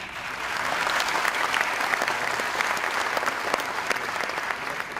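Steady, dense applause from a conference audience for a speaker, many hands clapping continuously at an even level for about five seconds with no voices over it.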